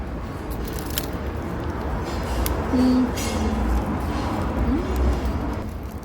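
A plain French butter croissant without filling, bitten and chewed in Paris, gives a soft, crackly crunch close up over steady background noise, with people talking nearby.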